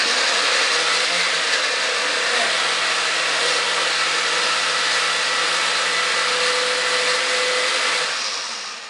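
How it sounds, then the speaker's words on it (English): A blender runs continuously at high speed, liquefying strawberries for fruit leather, with a loud, steady whirring roar that winds down slightly at the very end. "the blender was about that full of strawberries. It's now down to here because it's completely liquid."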